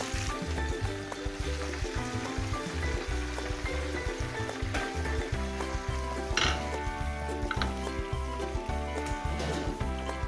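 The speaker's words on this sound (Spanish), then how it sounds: "El pollo lo vamos a freír a fuego medio-bajo para que se cocine bien por dentro" Chicken pieces frying in hot oil over medium-low heat for crispy fried chicken, giving a steady, close, continuous sizzle with small popping crackles throughout and no talking.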